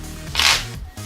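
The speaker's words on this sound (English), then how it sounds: "Maybe do something like some springs or a riffle shuffle." A brief riffle shuffle of playing cards, a quick fluttering burst of card edges snapping together, close up and over in under a second.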